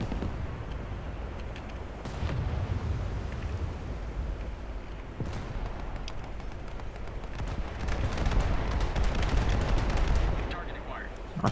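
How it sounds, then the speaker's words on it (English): Incoming naval gunfire in the War Thunder video game, a dense stream of booming shell impacts and sharp cracks over a constant low rumble, growing heavier toward the end. "There's a lot of fire coming in."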